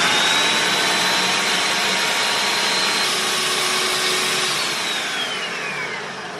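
Food processor blending cooked chickpeas with some of their saved liquid, a loud, steady motor whir with a constant high whine, slowly fading slightly, no voices.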